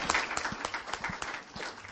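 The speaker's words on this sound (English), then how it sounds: "Round of applause, please." A seated audience claps after a faculty panel wraps up, a fairly quiet, loose scatter of hands that is brief and somewhat distant.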